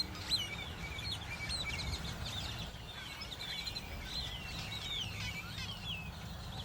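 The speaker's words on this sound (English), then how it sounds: "I would imagine there's all kind of birds up in there, but I'm seeing mostly grackles." Several birds, mostly grackles, calling in the distance, scattered whistles and chattering squeaks over a low steady traffic rumble, no talking.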